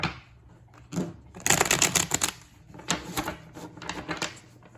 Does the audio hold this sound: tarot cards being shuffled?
yes